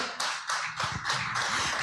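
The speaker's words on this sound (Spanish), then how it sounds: "denle el aplauso al Señor" A church congregation claps for the Lord during a sermon, a series of close, loud bursts of clapping in an uneven rhythm, with no voices over them.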